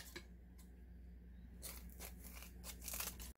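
Kitchen scissors snip through dried mackerel with several crisp, crunchy cuts, quiet at first and then closer and denser toward the end, with no talk.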